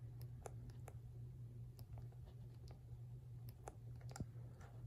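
Buttons pressed on an HP calculator, a series of light, sharp clicks at an irregular pace over a low steady hum, close and quiet.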